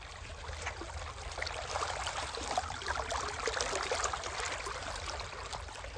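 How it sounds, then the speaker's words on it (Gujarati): Water flows and trickles continuously close by in a farm irrigation channel, a steady babbling rush with small splashes and no voices. "હા હા પાણી હેડી જ છે."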